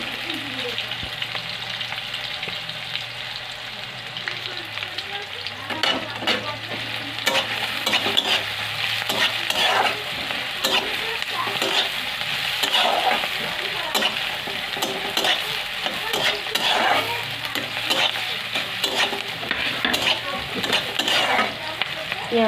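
Onions sizzle steadily in a pan while a spoon scrapes and stirs them in frequent rhythmic strokes, close and fairly loud throughout.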